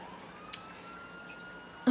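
Police car siren in Grand Theft Auto IV, a faint, thin wail that rises slowly and persists in the background, with a brief sharp sound partway through and a louder burst at the end.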